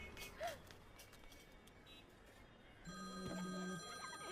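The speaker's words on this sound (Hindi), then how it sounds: "फिर से फोन कर रहा है।" A telephone rings in a Bollywood film scene, a repeated electronic ringing that starts partway through and sounds moderately close, with no talk over it.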